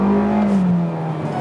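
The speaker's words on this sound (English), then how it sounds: "And this engine likes to rev, it has no complaints whatsoever. So if I step on it, it just goes like that." A 2019 Hyundai Elantra engine heard from inside the car, revving up under acceleration as a loud, rising tone that eases back slightly toward the end, with no talk over it.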